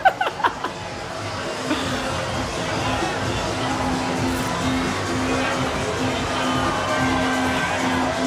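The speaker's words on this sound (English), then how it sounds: "I love the cheering." Crowd cheering and chatter at an outdoor Stonewall Pride parade in Wilton Manors, Florida: a few sharp claps or shouts at first, then steady loud crowd noise filling the rest.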